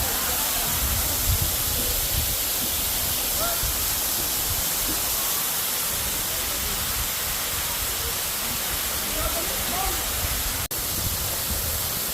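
Batlag Falls waterfall in Tanay, Rizal, a dense, steady roar of rushing water that fills the whole clip, loud and constant without pause.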